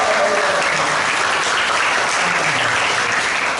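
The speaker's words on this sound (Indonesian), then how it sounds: "Tepuk tangan dulu untuk Bapak kita berdua" A school audience at a stadium general lecture in Sawangan claps for two guests, one from the military and one from Metro TV, a loud, dense round of applause that holds steady throughout.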